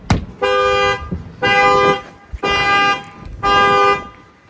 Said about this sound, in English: I'm going to go ahead and bang on the glass. It's going to fire off the alarm.